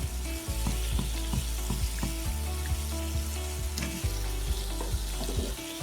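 Eggless donut dough frying in a pan of hot oil, a steady close sizzle and bubbling with frequent small crackles and pops throughout, no voices.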